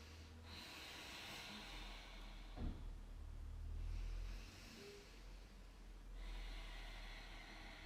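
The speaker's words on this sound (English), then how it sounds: "engage your ujjayi breath if you have one in your practice, creating that waving sound behind your throat" Slow yogic ujjayi breathing during a power flow yoga practice, a soft oceanic hiss rising and falling in long, steady waves at close range with no talk.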